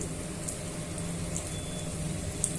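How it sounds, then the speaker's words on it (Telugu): Mustard seeds, cumin, urad dal and chana dal crackle in hot oil for a tempering, making a steady, busy, fine popping sizzle with scattered small pops at moderate level and no talking. "ఇప్పుడు పోపు దినుసులన్నీ చిటపట్లాడిపోయాయండి"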